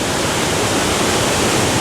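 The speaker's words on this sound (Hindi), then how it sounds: "लेकिन पानी की आवाज़ सुन सकते हैं कि आप कितना प्रेशर है पानी का।" A waterfall in Leukerbad, Switzerland, with water rushing under high pressure as a loud, steady, unbroken roar that fills the whole stretch and sounds very close.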